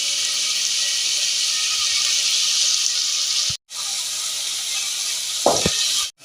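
Tomatoes sautéing in a pan for palak dal, a steady bright sizzle and hiss that cuts out twice, with a brief scrape of stirring near the end.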